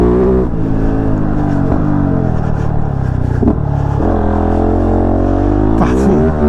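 A KOVE 450 Rally single-cylinder motorcycle engine on a test ride drones loud and close, its pitch rising and falling through gear changes and throttle blips, with wind buffeting and a rider speaking over it.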